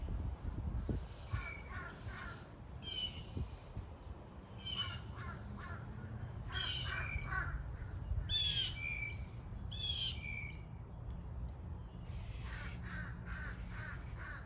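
Birds call outdoors, a mother bird followed by her babies, giving a series of harsh crow-like caws and squawks in repeated clusters over low background rumble.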